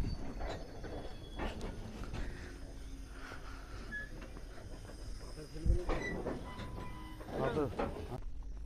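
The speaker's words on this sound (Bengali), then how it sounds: "পাথর বোঝাই মালগাড়ি গেছে।" A stone-laden freight train crosses the Nashipur rail bridge on the Nashipur–Azimganj line with a continuous rolling rumble and wheel noise. Voices talk over it throughout.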